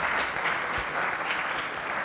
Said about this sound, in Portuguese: Então, palmas de novo.